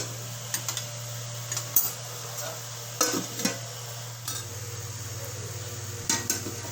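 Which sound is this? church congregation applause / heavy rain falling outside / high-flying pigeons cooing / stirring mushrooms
stirring mushrooms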